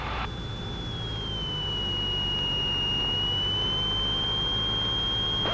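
Steady aircraft engine drone at 1500 power in a flight simulator, a loud continuous broadband rumble with a sustained high whine that dips slightly in pitch and then levels, with no voices.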